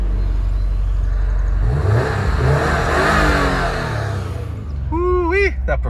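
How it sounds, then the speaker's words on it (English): A 2019 Subaru WRX STI with a performance exhaust revs hard, its engine note rising and falling as a loud, close, throaty roar, then a brief high whine near the end. "Woo-wee, that performance exhaust. Sounds fantastic."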